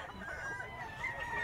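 Roosters for sale at a market give a steady stretch of clucking with crowing notes mixed in, against a busy, continuous background with no clear speech.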